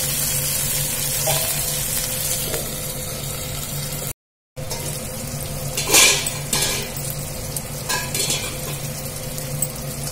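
Tomatoes fry in a pan with garlic, onion and green chili, giving a steady, close sizzle with a few scraping stirs and clinks of a utensil, briefly cutting out partway through.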